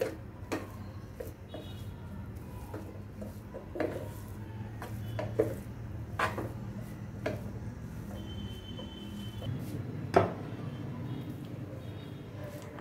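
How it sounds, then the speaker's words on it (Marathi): A spoon scrapes and taps against a bowl while sesame and jaggery filling with nutmeg powder is stirred, giving soft irregular clinks and knocks at close range over a low background hum. "आता हे पण छान मिक्स करून घेऊ"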